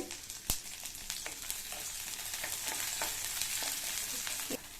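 Fifteen small shallots and five garlic cloves fry in oil for a peanut chutney, a dense steady sizzle heard close up with occasional stirring clicks and a sharp knock near the start.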